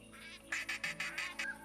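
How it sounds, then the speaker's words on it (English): Pintail ducks in theHunter Classic hunting game give a run of five or six evenly spaced nasal quacks, moderately loud over a soft steady background hum, with no talking. "Some pintail ducks coming."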